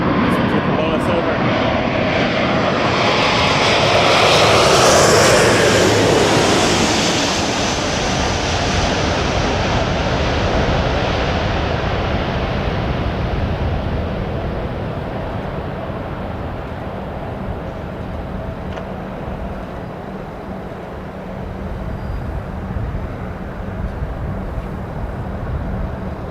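A jet airliner lands at LAX in crosswind, a loud broadband engine roar that peaks early, then slowly fades and settles into a steady distant rumble with faint radio chatter beneath.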